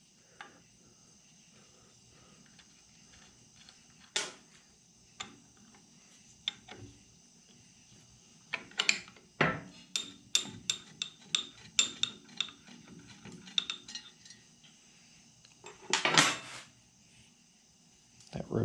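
Metal tools clink and tick against the gearbox cover of a Clausing 5400 lathe as its two bolts are removed during a restoration: scattered sharp, close clicks that cluster into a quick irregular run in the middle, then a brief scrape near the end.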